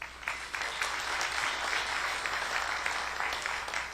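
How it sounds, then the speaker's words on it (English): Conference audience at a networking research talk claps steadily, a moderately faint, even wash of applause lasting several seconds with no voices over it. "A big round of applause, please."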